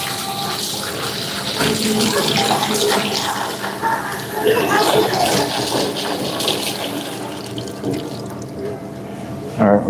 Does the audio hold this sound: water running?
yes